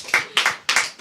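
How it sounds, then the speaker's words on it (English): A few hands clapping in sharp, slightly irregular bursts, close and sparse rather than a full crowd, with no talk. "I want everybody to give him a round of applause"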